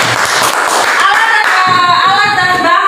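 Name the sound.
class clapping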